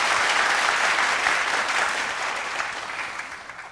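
An indoor lecture audience applauds to welcome a speaker, a dense burst of clapping that gradually fades over a few seconds.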